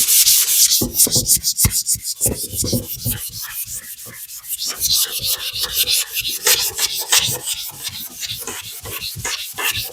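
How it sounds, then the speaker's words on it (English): Steady rhythmic sanding of a car panel coated in high build primer with sandpaper, close and loud, rapid back-and-forth rasping strokes continuing throughout with no talking. "Let's start sanding this panel."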